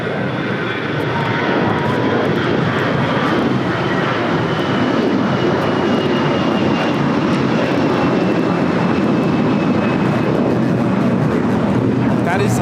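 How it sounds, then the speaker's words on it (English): An Air Canada Airbus A321 takes off from runway 25 right at LAX, a steady loud jet roar with a faint high whine that holds throughout, with wind buffeting and a voice speaking over it. "That is Air Canada 790 taking off to Toronto on the A321."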